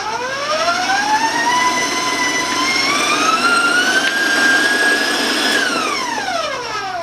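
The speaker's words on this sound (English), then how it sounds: "I'm just going to turn the mixer on just for a couple more seconds" An electric stand mixer with a paddle runs loud and close, mixing rum butter cake batter. Its motor whine ramps up, holds and wavers for several seconds, then winds down at the end with no talking.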